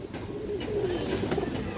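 Male Khora-neck pigeon cooing, a single low drawn-out rolling coo close by over a faint background hum.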